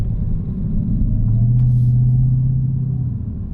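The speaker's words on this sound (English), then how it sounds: "This car sounds absolutely amazing though, guys." Deep, steady engine rumble from a Dodge Challenger Hellcat Redeye, heard as a low idle that swells slightly in the middle and holds, close and without talking.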